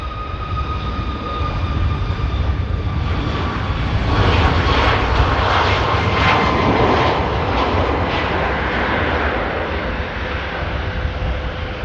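A fixed-wing airliner taxis and departs at Manchester Airport, heard from the runway visitor park as a loud, steady engine roar that swells slightly midway and stays strong throughout.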